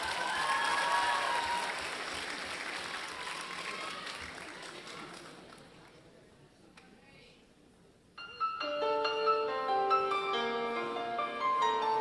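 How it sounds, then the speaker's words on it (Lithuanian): Audience applause at a school waltz dance competition, loud sustained clapping from a crowd that slowly fades over several seconds, followed abruptly by music starting. "Pasitikite plojimais!"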